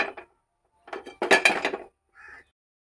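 Cooking pan set on a stove before frying bitter gourd, giving a few short metallic clanks and clinks separated by silence.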